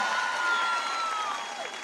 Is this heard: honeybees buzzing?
no